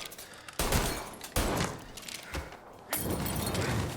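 Loud gunfire from a shootout in the video game Mafia, several sharp bursts with sustained crackling volleys and heavy blasts in between, dense and close throughout.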